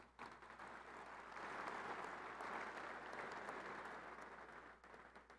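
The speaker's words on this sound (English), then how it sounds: "Let's give them all a round of applause." Sustained applause from an audience at the Texas Tech University ring ceremony, steady and broad, swelling slightly in the middle and continuing to the end with no voices over it.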